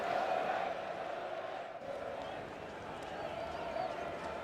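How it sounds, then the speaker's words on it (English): A large cricket crowd at Adelaide gives a sustained ovation with steady applause and cheering as a batsman walks out to the crease during a 1996 Pakistan versus Australia match, a broad, even roar at moderate distance. "he's received a huge ovation from this crowd"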